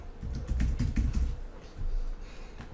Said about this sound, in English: I'm gonna go ahead and put in my username and password